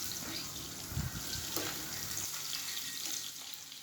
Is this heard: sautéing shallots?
yes